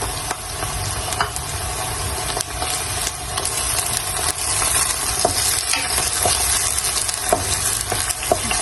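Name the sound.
tomatoes and green chilies frying with pink onions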